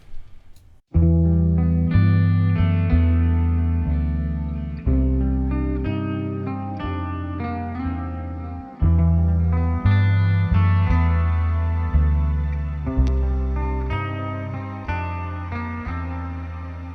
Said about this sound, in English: But now let's get to some clean tones.